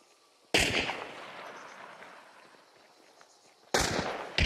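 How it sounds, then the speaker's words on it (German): In the video game Hunt: Showdown, other players trade fire: two sharp gunshots about three seconds apart, each with a sudden crack and a long, reverberant tail fading out across the space. "Ach, die schießen sich gegenseitig."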